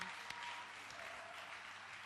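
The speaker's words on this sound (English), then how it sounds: "Please, another round of applause for Nico." Faint, steady applause from a bar-competition audience for a bartender, a soft even wash of clapping that runs unbroken through the whole moment.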